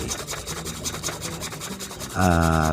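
Rapid back-and-forth strokes of a hand saw through wood for a homemade spear gun stock, close and steady, ending in a brief louder tonal noise near the end.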